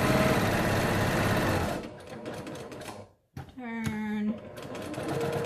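A sewing machine stitching a child-sized 3D box mask, running loud and steady for about two seconds. It then stops while the corner is turned and resumes in shorter runs, with a person talking throughout.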